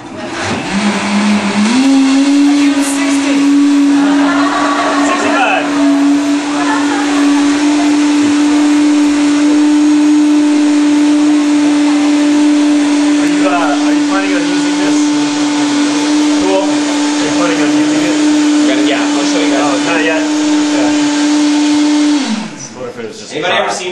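A hand blender (molinillo) runs at a steady, loud motor whine for about twenty seconds, briefly shifting speed at the start before cutting off near the end.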